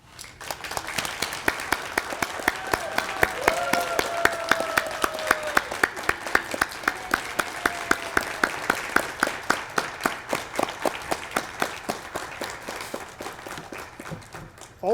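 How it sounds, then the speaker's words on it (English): A commencement hooding ceremony audience applauds the graduates, a dense sustained wash of many hands clapping with faint rhythmic unison beats emerging, fairly loud and continuing for the whole stretch. "accept the applause of the audience"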